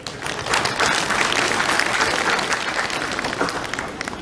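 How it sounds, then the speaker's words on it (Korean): Steady applause from the audience at a civic ceremony for village and neighborhood heads in Gangneung greets the chairman of the Gangwon provincial association, a dense, even wash of clapping that holds for several seconds without talk. "우리 행성에서 오신 윤천도 연합회장님께도 큰 박수 한번 주시면 고맙겠습니다."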